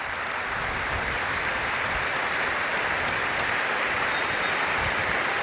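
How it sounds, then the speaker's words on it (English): Sustained applause from a packed football stadium crowd at Windsor Park, Northern Ireland's national stadium, steady and dense throughout with no individual voices standing out. "every man, woman and child inside the National Stadium applauding the memory of 3 Northern Irish greats"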